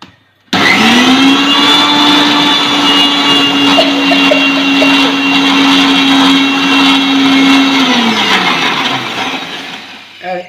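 Mixer grinder running loud and close as it grinds herbal medicine ingredients with water, a steady high whine that starts abruptly, holds for several seconds, then winds down and stops.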